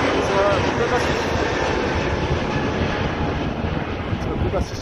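Pegasus Airbus A321 jet taking off, a broad loud roar of engines at full thrust, steady and fairly near, with people talking faintly underneath.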